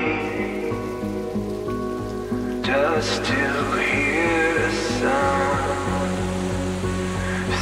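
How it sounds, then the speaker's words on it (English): Rain falls steadily onto surfaces along the Forgotten Highway in New Zealand's North Island, a continuous watery hiss with pattering drops, while tonal hums and other faint sounds run underneath. "the rain is coming to a stop"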